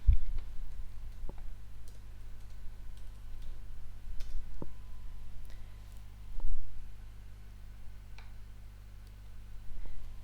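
Sparse, faint clicks of typing on a computer keyboard, a few isolated keystrokes spread over a quiet background hum.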